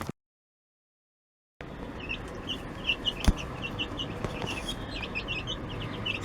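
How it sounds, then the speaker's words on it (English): Baby chicks in a brooder peeping and chirping continuously at moderate distance under a faint background hum, following a brief silent gap. "So here are my chickies"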